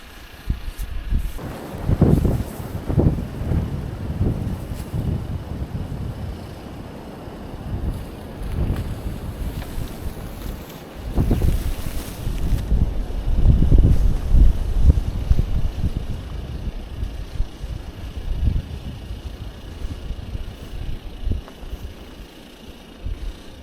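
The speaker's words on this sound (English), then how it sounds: "It's a snowy one here. Snow squalls, they call it." Strong, steady wind roars and buffets continuously during a snowy winter squall at an off-grid homestead, with gusts swelling and easing throughout.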